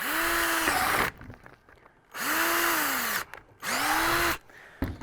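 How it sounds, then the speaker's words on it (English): A power drill whines drilling through two plastic shells held together, in three separate bursts, each about a second long, with short quiet gaps between them, close up and fairly loud. "drill right through both shells"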